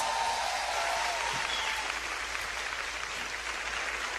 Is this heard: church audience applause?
yes